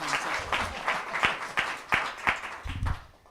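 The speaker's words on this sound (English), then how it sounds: "Let's a round of applause." At an author event, an audience claps after a reggae song. The clapping is a moderate burst of distinct, fairly regular hand claps with an irregular crowd texture, and it thins out by the end.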